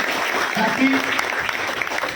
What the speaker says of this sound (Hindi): एक बार पुनः जोरदार ताली बजाया जाए